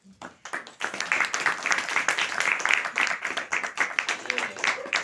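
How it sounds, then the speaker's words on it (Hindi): A church congregation claps together in a dense, continuous burst of fairly close hand claps, with some voices mixed in. "बाकी लोग ताली बजाएंगे।"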